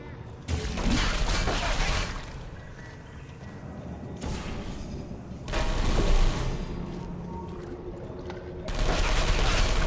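Portal 2 turret gunfire comes in loud, dense bursts of rapid shots, separated by quieter stretches of clatter and game noise.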